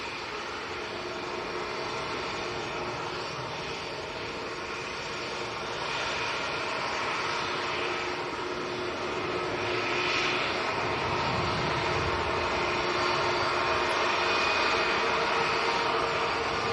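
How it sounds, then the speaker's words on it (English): A Titan Airways jet taxis along a taxiway at Manchester Airport on a windy day, its engines a continuous broad whine and rumble that grows gradually louder as it comes nearer. "it looks like the Titan Airways is going to come down our favourite taxiway as well"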